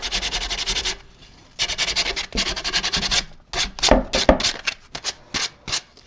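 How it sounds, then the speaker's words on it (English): Sandpaper rubbing over a cut plastic hemisphere on a scale model part, in close, steady bursts of back-and-forth scraping with short pauses, then quicker, choppier strokes. "if we get just a good little sanding over this"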